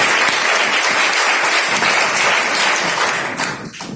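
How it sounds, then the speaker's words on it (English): Students at a school prize distribution ceremony clap together in sustained, dense applause that fills the room, loud and steady before thinning out toward the end. "Please have 3 claps for all these students."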